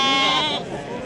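A sheep, a Timahdite breed ewe or lamb, bleats loudly and close at the Thursday livestock market in Timahdite, Morocco, a single drawn-out wavering cry over busy market noise.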